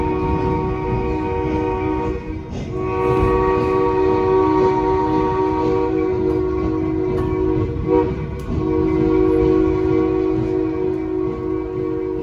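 A scenic railroad steam locomotive in Durango, Colorado sounds a long, loud, steady whistle with a brief dip partway through and another near the end, over rumbling train noise.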